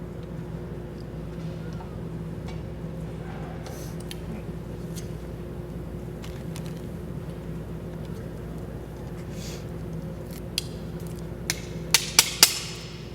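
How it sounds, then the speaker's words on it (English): A golf iron head is hammered onto a new shaft: three or four sharp metallic taps arrive near the end, after a long stretch of steady low room hum. "I just hammer it."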